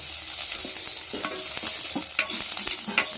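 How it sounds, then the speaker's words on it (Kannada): Capsicum fries in hot oil, a close sizzling crackle broken by scraping stirs of a spoon against the pan. "ಎಣ್ಣೆಲೆ ಒಂದು ಸ್ವಲ್ಪ ಫ್ರೈ ಮಾಡಬೇಕು"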